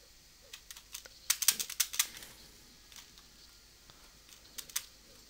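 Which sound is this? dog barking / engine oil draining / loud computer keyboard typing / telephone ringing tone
loud computer keyboard typing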